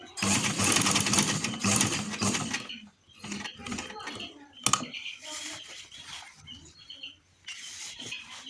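Sewing machine stitching ladies' uniform trouser fabric, a dense mechanical whir for a few seconds that stops, then softer intermittent handling and brief bursts of machine noise.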